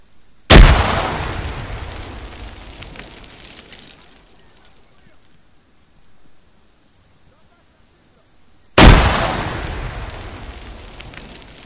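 Two loud grenade explosions in the video game Arma 3, several seconds apart, each decaying into a long rumbling tail with quieter stretches between.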